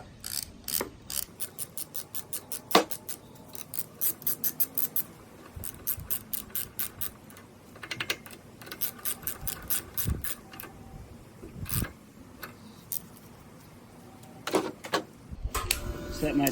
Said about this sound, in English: I'm going to be putting it on initially with my wrench here, and then I'm going to be tightening it down with the torque wrench.